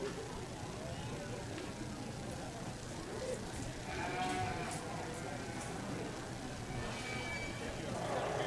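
Lambs bleating in a Wayne County Junior Fair show ring, several faint calls scattered through a noisy arena with steady crowd murmur and people talking.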